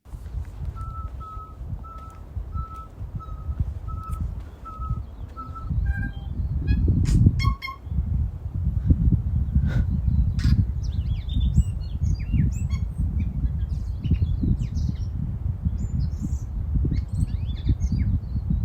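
A bird recorded in Australia or New Zealand gives a run of evenly spaced, clear whistled notes, then a varied stream of chirps and trills over a loud, rumbling low background.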